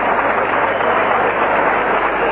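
A crowd of fans at a 1980s WWF wrestling match applauds Tiger Mask, a loud, continuous wash of clapping and cheering that fills the whole stretch without a break.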